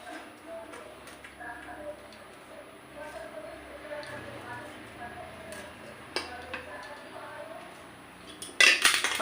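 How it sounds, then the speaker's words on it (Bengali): Rice is served onto a plate with light clinks of dishes and a serving utensil scattered throughout and a sharper clatter near the end, while someone talks in the background. "দেখো আমি ভাত বেড়ে নিচ্ছি"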